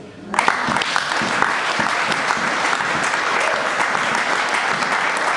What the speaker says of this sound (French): Le nom de l'Éternel, est-ce que nous pouvons l'acclamer?